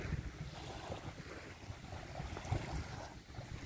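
Sea waves wash onto a palm-lined beach at sunset with a small boat moored nearby, a steady surging roar with gusting wind noise on the microphone, fairly close and continuous, no voices.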